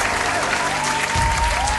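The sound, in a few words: applause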